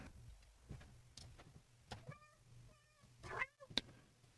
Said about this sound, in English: My cat wants out.